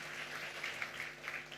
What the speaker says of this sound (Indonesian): Oh kalau mau tepuk tangannya yang paling meriah buat Yesus Tuhan kita.